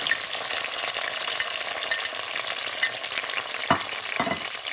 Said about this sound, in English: So now we're going to add the tomato.